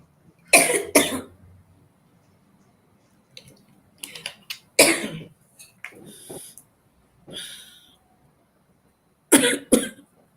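A person coughs in several sharp bursts during a round-table meeting, two quick coughs at the start, a louder fit in the middle and a final pair at the end, close and with quiet gaps between.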